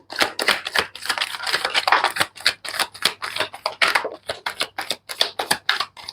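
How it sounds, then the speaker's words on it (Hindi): Tarot cards are shuffled by hand in a rapid run of crisp, papery riffles and snaps, close and fairly loud, continuing in quick irregular bursts with no talking. "ये लास्ट शफल है।"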